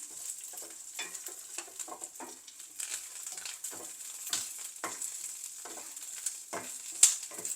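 Curry leaf masala for a prawn dish fries in a pan with a quiet, steady sizzle and frequent soft scraping strokes of a spatula, close but low in level, no one speaking.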